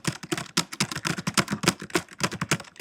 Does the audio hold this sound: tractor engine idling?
no